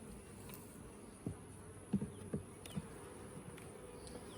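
Honey bees droning softly around an open hive during a queen replacement, a steady low hum with a few brief louder passes of individual bees close by.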